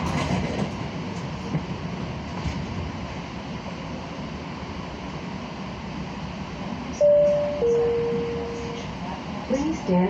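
Siemens S light rail train on the CATS LYNX line in Charlotte rolling along steadily, a low rumbling wash of track noise with a couple of brief whistling tones partway through.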